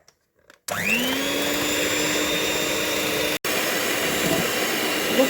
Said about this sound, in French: Je vais reprendre mon batteur et je vais faire blanchir ce mélange.